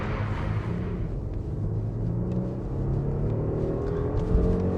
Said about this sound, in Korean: 엔진 사운드 좋죠